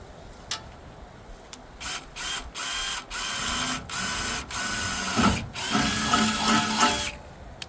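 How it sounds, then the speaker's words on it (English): A drill bores a 3/16 inch pilot hole in a series of short whirring bursts, then a longer run, close by with no talk. "this is a 3/16 pilot hole that I'm going to do"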